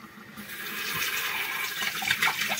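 Tap water runs steadily into a bathroom sink, a continuous close hiss and splash that starts abruptly after a brief quiet moment and keeps going with small fluctuations.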